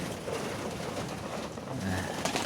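Pigeons at a backyard feeder on a frosty evening at minus ten, soft cooing faint against a steady background hiss, with a brief low coo near the end.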